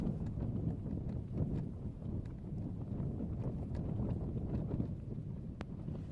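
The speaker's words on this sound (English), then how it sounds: "as you can hear, it is a wee bit blowy." Strong wind roars over a frozen winter camp in Scotland's sub-Arctic Cairngorms, a steady, heavy buffeting rumble that batters the microphone for the whole stretch with no voices.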